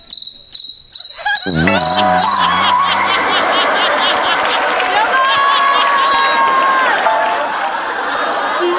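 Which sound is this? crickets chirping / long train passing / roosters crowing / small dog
crickets chirping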